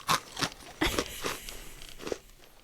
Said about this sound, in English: I'm eating pretzels